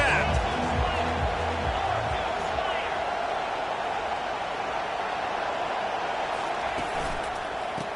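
Dense roar of a football stadium crowd at a Tennessee game, steady and loud throughout with cheering swelling in waves beneath a voice.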